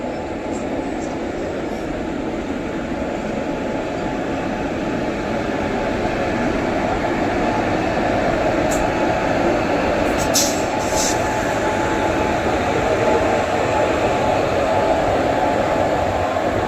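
Continuous loud rumble and rhythmic clatter of passenger trains on an Indian railway as the Etawah Kota Express passes close by, with a few faint high squeals partway through.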